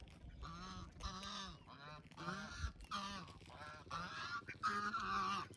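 Loud, repeated honking calls from a duck in a village yard where a rooster is also kept, arriving in several bursts one after another, close by and with no talk.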